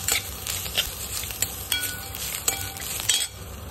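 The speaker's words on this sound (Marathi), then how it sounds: "आता याच्यामध्येच आपण शेंगदाणे भाजून घेऊया।" Peanuts and grated coconut dry-roasting in a pan while being stirred: a dense, continuous scraping and rattling with light metallic clinks, close and fairly loud throughout.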